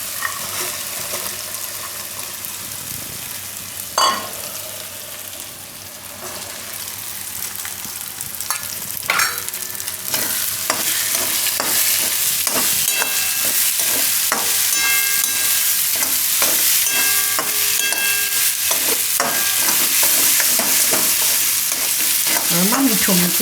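Corn kernels fry in hot oil with browned onions for a Gujarati paneer and corn dish, a steady close sizzle broken by repeated scraping and clinking stirs, with no talking.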